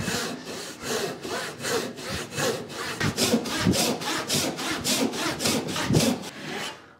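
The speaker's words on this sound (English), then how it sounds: "But the saw is tracking pretty true." Hand saw cutting through spalted beech wood, with steady rhythmic push-pull strokes, close and clear, each stroke a rasping burst that grows stronger and more regular as the cut deepens.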